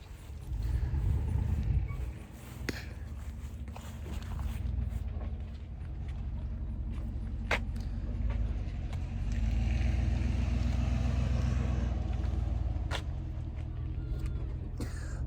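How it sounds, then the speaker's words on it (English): A car drives past outdoors, a steady low rumble of tyres and engine that swells and fades over several seconds, heard from a moderate distance with light background noise. "Hold on, there's a car driving by."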